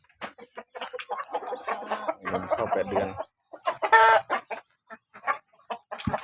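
Eight-month-old gamefowl cluck in short bursts close by while someone talks over them.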